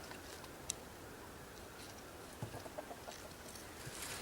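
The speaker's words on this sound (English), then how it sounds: "Le chicken." Chickens cluck faintly in a farm setting, a few scattered soft clucks and short calls over a steady background hiss.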